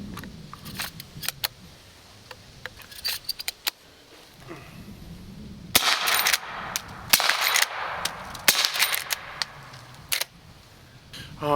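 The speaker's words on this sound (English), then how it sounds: "I'll show you a quick video of 3 suppressed subsonic rounds." Three suppressed subsonic shots from a Henry .45-70 lever-action rifle fitted with a Dead Air Primal 458 big-bore suppressor, each a short muffled crack spaced a second or so apart, heard outdoors over faint ambient noise.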